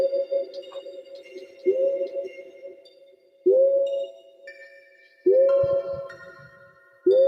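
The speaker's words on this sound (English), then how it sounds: "the arpeggiator" A modular synthesizer arpeggiator repeats a pattern of clean, pinging tones, each note struck at a steady spacing and ringing out before the next, with higher notes added partway through.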